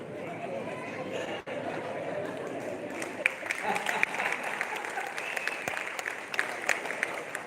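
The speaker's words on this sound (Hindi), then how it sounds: "मेरे मंच पर आते ही आपने जो घनघोर तालियां बजाकर मेरा स्वागत किया है" A hall audience at a Hindi comedy poetry gathering applauds loudly and continuously to welcome a poet on stage, a dense sustained clapping with crowd chatter mixed in.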